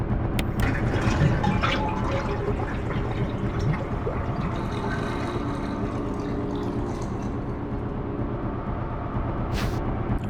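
Water drains in Resident Evil (2002): steady rushing water, a dense gurgling wash that stays loud and even throughout with no voices.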